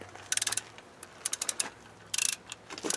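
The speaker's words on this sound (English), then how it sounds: "I've got the torque wrench here." A torque wrench ratchets on clutch bolts of a Land Rover Malawi 110 during a clutch and rear crank seal replacement, with bursts of sharp metallic clicks in several quick runs separated by short pauses, close and fairly quiet.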